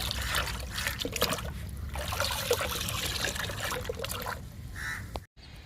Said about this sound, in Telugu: ఇప్పుడు ఈ లిక్విడ్ని మొక్కలకి ఇచ్చేద్దాము